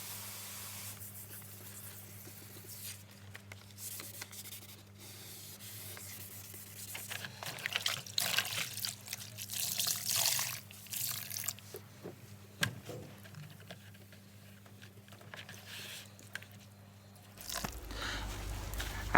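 Wet sanding of a silver rear bumper with 800-grit wet and dry paper, heard as soft rasping, swishing strokes that pick up in the middle and near the end over a low steady hum, close but quiet.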